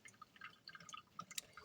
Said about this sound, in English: if you hear that noise in the background, that's my coffee maker